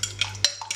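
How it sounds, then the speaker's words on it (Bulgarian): Quick stirring of a mixture of minced meat and rice in a bowl, a few brief clinks and scrapes of a spoon in rapid succession, close and fairly quiet. "Разбъркваме добре"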